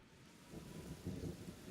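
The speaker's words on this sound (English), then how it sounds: "Oh, they're in acid rain." Acid rain and thunder in the video game Kenshi come through as a faint low rumble with a soft rain wash, swelling gently in two quiet surges without speech.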